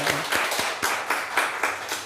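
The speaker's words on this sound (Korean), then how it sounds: "크게 박수하겠습니다." A congregation at a Friday prayer meeting claps together in a loud, rhythmic burst, with regular hand strikes repeating roughly every quarter second throughout.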